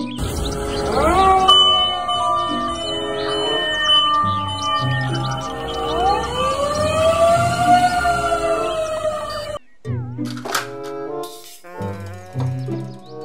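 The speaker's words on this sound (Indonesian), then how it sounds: "Mobil, truk pemadam kebakaran." A toy fire truck's electronic siren wails continuously with rising and falling tones, loud and close, then breaks into choppy beeping toy sounds near the end.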